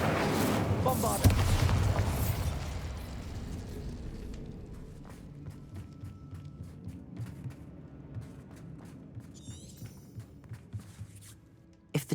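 Bombarda spell explosions in the Hogwarts Legacy video game bring heavy booms and rumbling blasts early on that fade into scattered debris clatter and magical effect sounds, with a sharp hit at the end.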